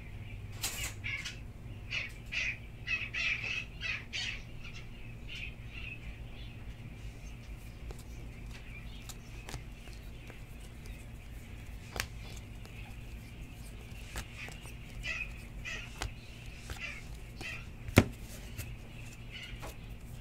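Birds call faintly outside a window, heard indoors as scattered distant chirps and caw-like cries over a low steady room hum. The calls are busiest early on and again near the end.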